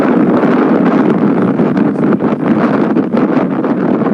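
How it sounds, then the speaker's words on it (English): Wind buffets the microphone in a constant rumbling roar, loud and close, with gusty fluctuations throughout and no voices. "It's a bit windy."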